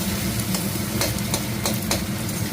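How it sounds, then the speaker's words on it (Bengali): Close, loud sizzle of onions frying in a pan, with intermittent scraping stirs over a steady crackle. "পেঁয়াজটা ভাজা ভাজা করে নিচ্ছি"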